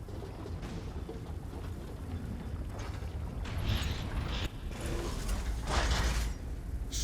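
Swivel sword trap mechanisms in the Elder Scrolls Online Clockwork City grind and creak with metallic gear and ratchet noises, swelling in bursts of scraping clatter over a continuous mechanical rumble, with no speech.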